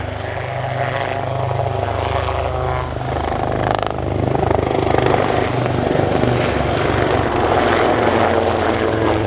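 Loud helicopter rotors and turbine engines roar close by as two Royal Navy Wildcat HMA.2 helicopters fly a display at RIAT 2024, a steady thrumming blade chop that swells slightly as the aircraft pass.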